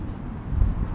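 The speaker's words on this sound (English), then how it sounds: "kind of windy" Steady low wind rumbles against the microphone outside a school in Norwich, Connecticut, in January, with a stronger gust buffeting near the end.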